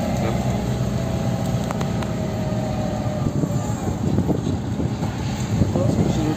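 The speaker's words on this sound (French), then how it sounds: "On roule pas vite avec le camping-car." A camper van crawling slowly up a mountain road in Spain, its steady low engine drone and road rumble continuous throughout, with wind buffeting the microphone and a voice speaking over it.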